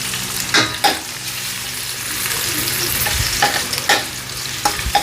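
Garlic sizzles steadily in a hot pan while a spatula scrapes and stirs it in several distinct strokes. The cooking is for pinakbet, a home-style vegetable dish, and no one talks.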